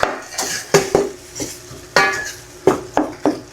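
A utensil scrapes and clinks against a pan in quick, irregular strokes while sautéed chayote is stirred, with about eight distinct metallic knocks close by.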